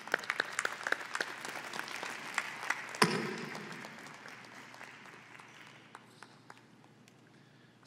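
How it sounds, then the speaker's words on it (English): Audience at an evening concert applauds a harpist, a dense burst of clapping from a sizeable crowd at moderate distance that swells, then thins and fades over several seconds. "Give him a round of applause."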